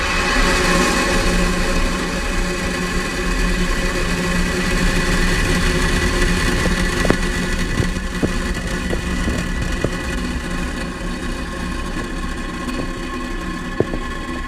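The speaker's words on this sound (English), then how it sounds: "Ignition and liftoff of Falcon 9." A SpaceX Falcon 9 rocket's engines ignite and lift off, producing a loud, continuous roaring rumble with steady broadband noise and occasional crackles throughout.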